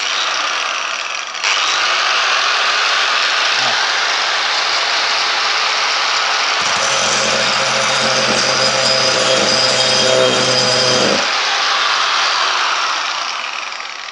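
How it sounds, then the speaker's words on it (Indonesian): A handheld grinding machine scours crust off the bottom of a wok, a loud steady whir that starts abruptly and grows rougher and denser midway as the disc bites into the metal, with no talking. "yaitu ini mesin gerinda. Ya, saudara tahu mesin gerinda."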